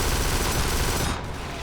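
Dense, continuous automatic gunfire from blind firing in the video game Kane and Lynch 2, a loud sustained rattle of shots that eases slightly near the end.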